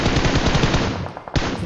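Rapid automatic gunfire from a battle royale video game rattles continuously and loudly, then cuts off briefly before a final burst.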